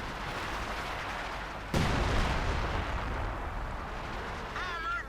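Artillery and gunfire from Company of Heroes 2, a World War II strategy game, with a light machine gun emplacement under attack: a sudden heavy blast at about two seconds, then continuous rumbling battle noise and scattered shots.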